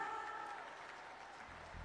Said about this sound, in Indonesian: Kasih tepuk tangan dulu buat kemuliaan Tuhan